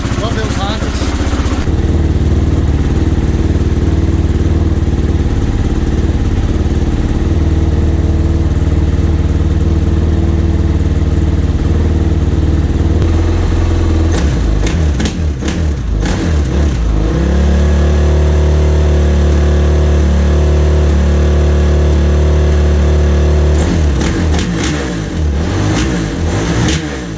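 A Honda motorcycle engine idling loudly and close after a kick start, with a rough steady running note and bursts of revving through the middle and end.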